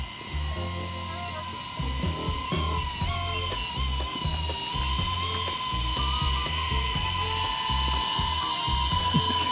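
A DJI Neo 2 drone hovers and comes in to land among trees, its small rotors giving a steady high-pitched whine close by, while excited voices talk over the motor noise throughout.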